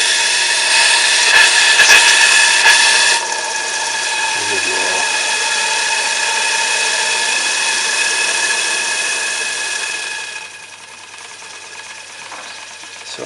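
A steam engine fed by a coal-fired vertical boiler runs with a steady mechanical whir and rhythmic clatter, close and continuous, dropping slightly in level partway and near the end.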